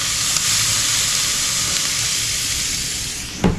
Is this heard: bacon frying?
yes